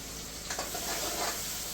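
Green chillies frying in hot oil for a dal dhokli tempering, a steady close sizzle with a brief louder crackle midway, no talk.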